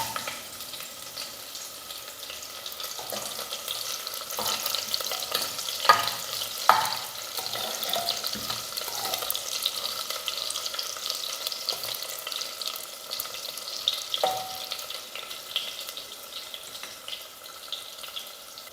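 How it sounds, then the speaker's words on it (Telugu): Bitter gourd pieces fry in a pan with a continuous crackling sizzle, broken by a few louder stirring scrapes and clinks, with no voices. "మిగిలిన కాకరకాయ ముక్కలు కూడా వేసుకొని వీటిని కూడా ఫ్రై చేసుకుందాం."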